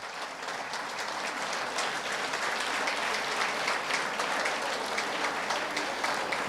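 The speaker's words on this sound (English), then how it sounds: "please join me as we welcome our minister on stage with a big" An audience at an artisans' graduation ceremony gives a sustained, dense round of applause to welcome a minister onto the stage, steady and even throughout, heard from within the crowd.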